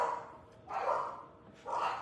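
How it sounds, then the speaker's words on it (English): Dogs barking in a house, two bursts of barking at a moderate distance with quieter gaps between them. "There go my dogs."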